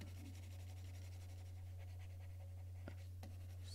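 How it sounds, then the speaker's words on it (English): A pencil drawing is erased with quick scrubbing strokes, faint and close, over a steady low electrical hum. "I'm just going to erase a lot of it out"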